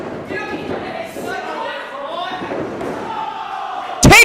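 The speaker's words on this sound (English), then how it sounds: "Take a look at that facebuster on a Mercedes KV." A facebuster slams an opponent to the mat in an intergender wrestling match, one loud, sharp impact at the very end after several seconds of commentary over crowd noise.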